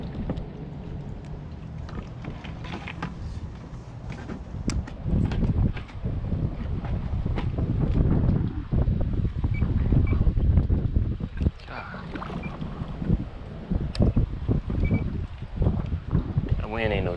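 Strong gusty wind buffets a small boat on a fishing trip, roaring steadily into the microphone with low rumbling swells, while people talk faintly underneath.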